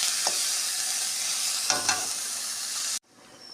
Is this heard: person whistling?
no